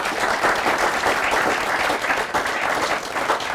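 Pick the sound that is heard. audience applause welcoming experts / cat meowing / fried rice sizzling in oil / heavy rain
audience applause welcoming experts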